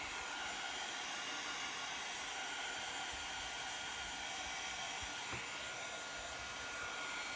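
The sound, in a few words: hair dryer drying paint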